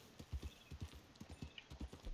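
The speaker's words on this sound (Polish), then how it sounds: "Koń." A horse's hooves clip-clop in steady rhythmic beats in Red Dead Redemption 2, a brisk, even gait heard clearly and alone with no talk.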